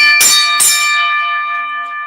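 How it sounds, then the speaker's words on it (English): A bell rings out twice in quick succession, loud and close, then its metallic tone hangs and slowly decays over the following seconds with no talking. "I'm going to wait until the bell dies down"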